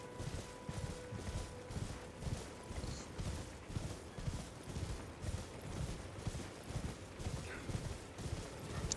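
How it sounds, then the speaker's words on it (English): A horse gallops in the Elden Ring video game with a steady, rapid clip-clop of hooves, loud and close, repeating evenly for the whole stretch with no voices over it. "He can just gallop by the looks of things."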